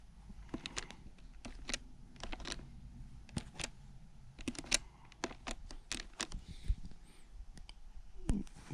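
Irregular, close keystrokes clatter on a computer keyboard as someone types a word into an 80s space-age hangman game, with short clusters of clicks separated by brief pauses.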